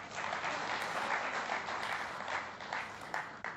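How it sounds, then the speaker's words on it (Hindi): Faint, distant audience applause at a poetry event celebrating Independence Day with soldiers, a steady wash of many hands clapping with slight swells, no voices on top. "एक ताली बज रही है इधर।"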